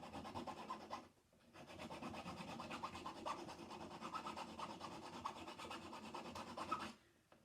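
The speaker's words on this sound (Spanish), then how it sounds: "Pulir la soldadura." A flat file rasps back and forth across a welded steel ring, steady rhythmic strokes with a brief pause near the start, faint and close.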